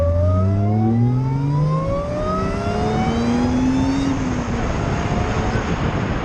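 An Audi S4 after an intake upgrade revs up, with a rising supercharger whine that climbs in pitch over a loud, steady engine roar, heard up close with no talking.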